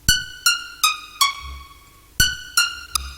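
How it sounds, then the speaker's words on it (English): Short, bright reverb pluck synth notes shaped by a volume envelope, with quick decays, played as a rhythmic melody with a brief pause midway, each note fading fast into soft reverb. "With the volume envelope,"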